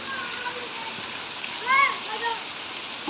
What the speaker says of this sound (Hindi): ये देखें, मूसलाधार बारिश